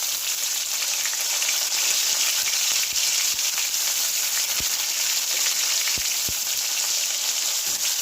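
A spice and tomato base with chopped coriander leaves is sautéed in a pan for katla fish curry, producing a loud, steady, close sizzle with a few sharp ticks and pops, and no voices.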